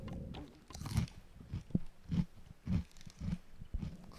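Someone crunches food on a livestream, a run of about eight sharp, close bites and chews at a steady rhythm, with no talk over it.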